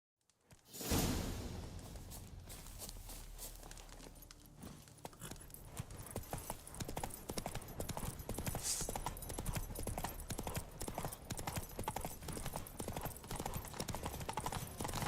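Hooves of the horse Roach in The Witcher 3 game, rapid rhythmic galloping clip-clop that starts after a brief whoosh and keeps a fast, even beat, with faint sounds of tack jangling underneath.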